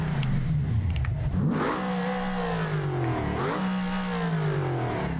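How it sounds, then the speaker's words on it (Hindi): A car engine in the GTA 5 video game revs loudly in repeated rising and falling surges, close and steady, on a damaged car with a broken gearbox. "गाड़ी का इंजन काम कर रहा है नो डाउट"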